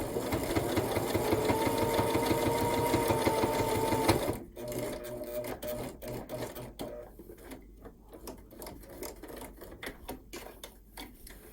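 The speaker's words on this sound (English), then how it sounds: "you just stitch on your binding like you do a regular quilt, but with a 1/8 of an inch seam" A sewing machine stitches binding onto a tiny micro mini quilt with a very narrow seam, running in a fast steady burst for about four seconds, then slowing into softer, uneven stitching with brief pauses.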